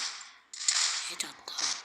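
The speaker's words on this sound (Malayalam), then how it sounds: "പക്ഷേ ഇവിടെ വെറുതെ വെടി വെച്ചേ." A scoped AWP sniper rifle fires in a video game, sharp, loud cracking reports that snap in quick succession over a quiet background.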